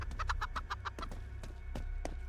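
Repeated clucking of a chicken in a horror video game, a quick run of short rhythmic clucks close up over a low droning background, with no talking.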